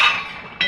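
A utensil clinks against a pan while fish curry with fried ground spice, cumin and garam masala is stirred, giving one short bright clink at the start and another near the end.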